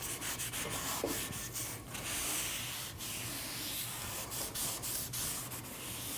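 A brake rotor surface on a 2012-2021 Nissan NV2500 being cleaned while it spins, a steady close rubbing and scrubbing sound with brief rhythmic dips, no speech.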